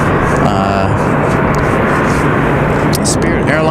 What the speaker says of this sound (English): Spirit Airlines coming in a